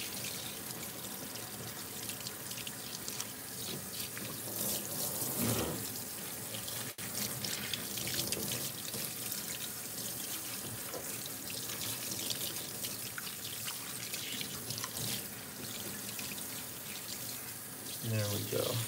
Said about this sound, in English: So you see how I'm spraying his coat down with the water?